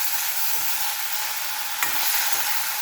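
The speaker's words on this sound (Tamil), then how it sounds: "இதை கொஞ்சமாக நெய் ஊற்றி வதக்கிக்கிறோம்" Manathakkali greens sautéing in ghee in a pan, giving a steady, close sizzle with soft stirring scrapes and one brief sharper clink partway through, without any talk.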